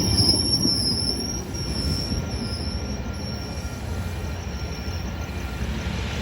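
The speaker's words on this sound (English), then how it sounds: "And there it goes, guys. Metrolink 608 off to Oceanside." Metrolink 608 commuter train pulls away from San Clemente toward Oceanside, its wheels squealing high over a steady rolling rumble of rail cars, close and continuous, with no voices.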